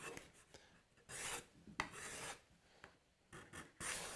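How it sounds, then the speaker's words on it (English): A card scraper edge is trued with short, rasping filing strokes, a quiet series of separate scrapes with small gaps between them. "So this one definitely needs to be trued up."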